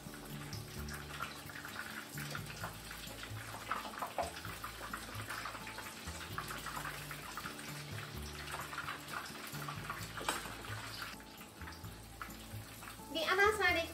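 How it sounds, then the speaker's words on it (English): Cabbage menchi katsu frying in hot oil give a steady, dense crackling sizzle that runs throughout, with a voice talking over it. "And fry them for 3 to 4 minutes on each side."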